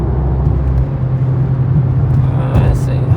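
A Dodge Scat Pack 392 cruises on a highway with a steady low engine drone and road rumble heard from inside the car, loud and continuous throughout.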